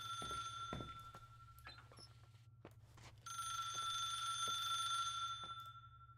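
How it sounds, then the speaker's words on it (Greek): Telephone ringing inside a house in the video game The Suicide of Rachel Foster, a repeating electronic bell tone that pauses briefly and then resumes, louder and steady, over a low ambient hum. "Ένα τηλέφωνο χτυπάει."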